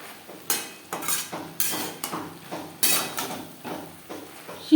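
Sliced ridge gourd is stirred in a pan over a high gas flame for a fried vegetable dish: a steady run of about a dozen close scraping, clattering strokes of the utensil against the pan, with no voices.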